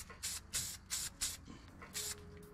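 Short hissing bursts of spray paint on a 2022 Subaru WRX brake caliper, five quick sprays with brief pauses between, close up.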